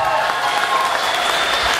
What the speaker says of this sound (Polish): Gorące brawa raz jeszcze!